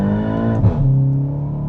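A Stage 3 tuned VW MK8 GTI revs hard in second gear from about 4,000 RPM with the tires spinning, a loud, close, sustained engine roar that shifts pitch briefly mid-pull, with no talking.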